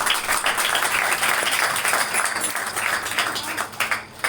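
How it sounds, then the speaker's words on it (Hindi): A church congregation at Pastor Liaqat Youhana's Sunday service claps together in a dense, sustained burst that thins into scattered claps near the end. "तो फिर ताली बजा दीजिए।"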